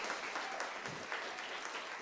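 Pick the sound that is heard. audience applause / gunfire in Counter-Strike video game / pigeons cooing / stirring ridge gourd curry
audience applause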